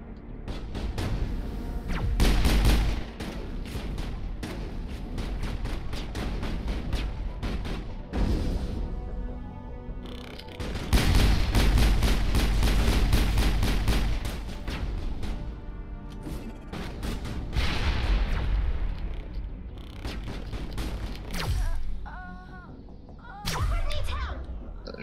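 Bursts of sci-fi weapon fire from a Mass Effect firefight against geth, including sniper shots, come in rapid volleys and sharp cracks with brief pauses between, loud and close, with a voice speaking at times.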